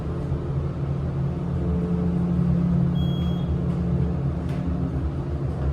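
A Montgomery hydraulic elevator motor at a JCPenney in Franklin Park Mall, Toledo, Ohio, runs as a steady, loud low hum and drone with no speech, holding constant throughout.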